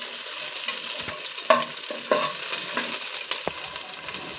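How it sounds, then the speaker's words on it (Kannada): Onions for sambar fry in a pan with a soft continuous sizzle, broken by a few scraping stirs of a spoon against the pan, close and fairly quiet. "ಒಂದು ಕಪ್ಪಷ್ಟು ಈರುಳ್ಳಿ ಹಾಕೊಳ್ಳೋ. ಕಂದು ಬಣ್ಣ ಬರೋವರೆಗೂ ಉರಿತಾ ಇರುವ."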